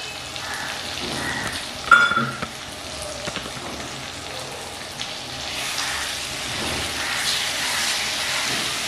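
Ground fried spices cooking in a pan with ridge gourd and potato for a rohu fish curry, giving a soft, steady sizzle with scraping stirs and one brief sharp clatter near the start.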